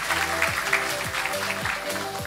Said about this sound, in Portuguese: salve de palmas para ele